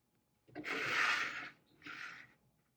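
A pen drawing lines on paper, heard close up as two scratchy strokes, a longer one followed by a shorter one, in an otherwise quiet room with no talking.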